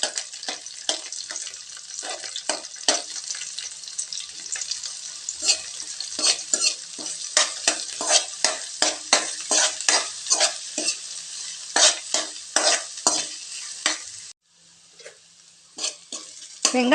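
Onions and curry leaves sautéing in a pan, a dense sizzle punctuated by many sharp stirring scrapes, then a brief near-silent pause before a few final strokes.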